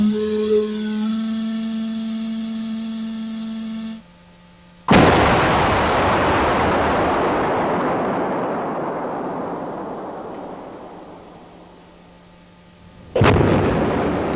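Flour dust explosion test: a sudden, very loud blast that rolls into a long, roaring decay lasting several seconds, then a second sharp detonation near the end. A steady low hum comes before the first blast.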